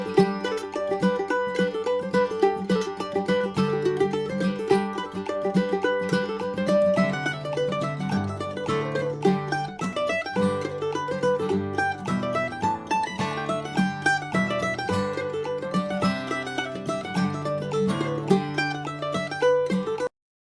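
Mandolin playing the Irish tune Miss McLeod's Reel in G with added triplets, as a steady, bright, continuous run of picked notes at a lively reel tempo, alone with no voices.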